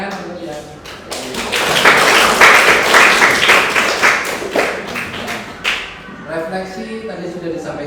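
Students applaud in an Islamic religious education classroom, a close burst of clapping that swells after a moment and tapers off over several seconds, with voices talking around it.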